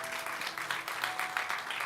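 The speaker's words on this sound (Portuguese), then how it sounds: "Pode aplaudir o Senhor" Church congregation applauding during a service, a dense, steady patter of many hands clapping at moderate volume, briefly.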